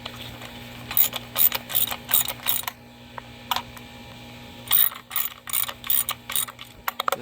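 Ratchet clicks from bolts being snugged down during a 2014-2016 Kia Soul transmission replacement, several quick bursts of clicking separated by pauses, close and fairly loud over a steady low hum.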